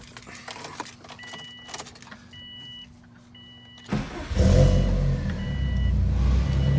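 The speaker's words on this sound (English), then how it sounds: "We're gonna go ahead and start it up." A 2005 Subaru Impreza WRX STI is started with keys: soft jingling and electronic chimes give way to the engine cranking and catching, then a loud, steady idle close by.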